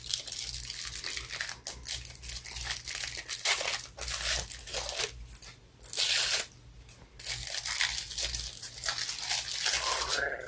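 Shiny tinfoil wrapping on a chocolate bar crinkles and tears in repeated close, sharp bursts, with brief pauses between handfuls of rustling.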